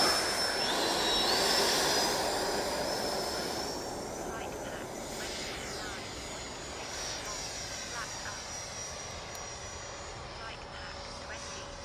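Two radio-controlled fighter jets fly together, an F-22 and an F-16, each with a 90mm ducted fan on 8S power. Their steady turbine-like roar and high whine are loudest early on, then ease slightly as they move off.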